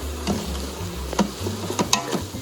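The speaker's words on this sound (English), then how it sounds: "Give that a good stir." Ground beef and spices, including Dijon mustard, paprika and tomato powder, are stirred in an Instant Pot, giving a run of soft scraping strokes and light taps from the spoon against the pot.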